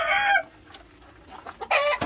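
Roosters crow loudly close by, with two separate cock-a-doodle-doo calls at the start and end and faint clucking between them.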